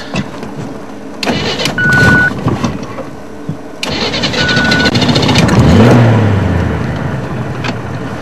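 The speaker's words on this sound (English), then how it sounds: "I'm going to just turn the vehicle a little bit." A safari vehicle's engine runs through a slow turn at sunset near a herd of buffalo, a steady mid-pitched drone that swells and revs slightly, loud and close, with brief bumps and rattles and no speech.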